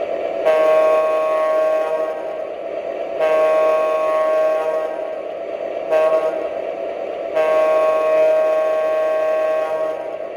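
An MTH Railking Burlington F3 model train sounds its crossing horn in the long-long-short-long pattern. The blasts are loud, close and sustained, with no talking.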